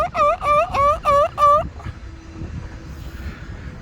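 A man imitates a seagull call outdoors at South Shore, Blackpool: five loud, nasal, evenly spaced squawks in quick succession, then quiet open-air background.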